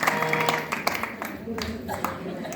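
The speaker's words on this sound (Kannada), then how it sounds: "ಜೋರಾಗಿ ಚಪ್ಪಾಳೆ, ಜೋರಾಗಿ ಚಪ್ಪಾಳೆ" Clapping at a village temple fair in Shivapur, a scattered burst of hands under ongoing talk, moderately loud and uneven over a couple of seconds.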